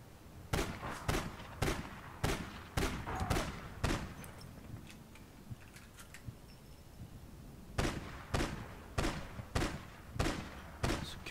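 Gunfire in APB Reloaded rings out as repeated loud, sharp shots in rapid bursts, with a short lull in the middle before the shooting resumes at close range.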